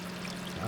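Water coolant pours steadily from a pump nozzle into a homemade grinder tank, a continuous close splashing stream with no break.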